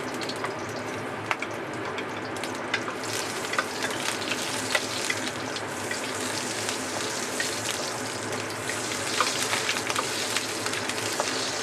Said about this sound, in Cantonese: 我哋第一時間咧就將啲薑片擺咗落去先